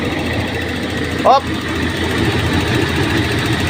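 A Toyota Revo engine idles steadily with an open hood under inspection, a continuous low mechanical hum, briefly interrupted by a short exclamation from a nearby voice.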